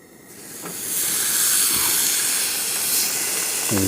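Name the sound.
steak sizzling on hot pan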